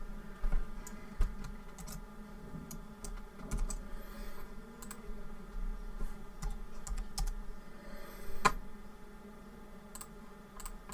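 A computer keyboard being typed on while drafting a mosque floor plan in AutoCAD: steady, close, fairly quiet key clicks in irregular bursts with a few firmer taps, alone without talk.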